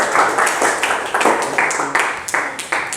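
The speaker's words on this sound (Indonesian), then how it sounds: "Tepuk tangan untuk Philip." Students in a classroom applaud a classmate with about a dozen loud, regular claps in a quick rhythm, close and alone.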